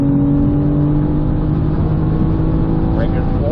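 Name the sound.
BMW M4 GT4 race car engine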